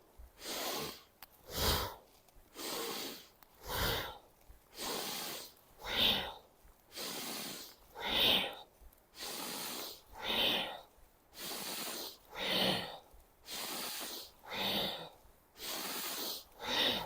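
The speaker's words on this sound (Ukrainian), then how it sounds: "при цьому глибоке, дуже таке потужне дихання" Deep, powerful breaths during a kundalini yoga exercise come in a steady rhythmic cycle, each strong inhale and exhale rising and falling about every second, close and forceful over roughly a dozen repetitions.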